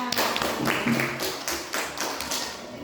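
A classroom of students claps together at their teacher's prompt, a few sharp, loud bursts of hands in an uneven rhythm, close by and with no talk over it.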